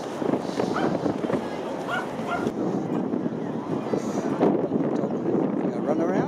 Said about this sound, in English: Number of grumbling dogs.